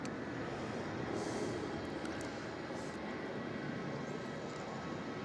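Airliner landing at Melbourne Airport, a steady distant engine roar and rumble spread across the whole stretch, moderately faint, with no talk.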